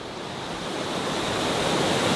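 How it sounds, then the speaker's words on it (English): A waterfall in Cascades National Park, heard as a steady broadband roar of falling water that swells slightly louder over the span, with no voices. "So this waterfall drops off right on the adjacent side."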